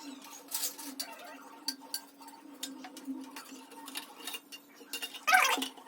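An SMPS multipurpose power supply's casing is closed up by hand, giving light scattered metallic clicks and taps with a sharper clattering snap near the end, all quiet and close.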